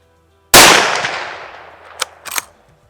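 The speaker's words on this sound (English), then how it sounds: "We're going to go ahead and fire the first shot" A single sharp rifle shot from a 350 Legend, loud and close, its crack decaying into a long rolling echo across an outdoor range, followed by a couple of faint metallic clanks.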